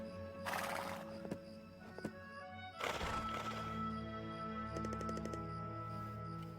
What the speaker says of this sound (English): Let's pet our horse.